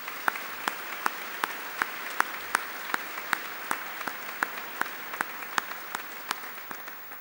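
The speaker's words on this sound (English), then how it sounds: "I propose that we give Anne a round of applause" An audience at a chamber of commerce president's banquet gives sustained applause, a dense wash of many hands clapping with a few sharper claps standing out, steady and full for several seconds.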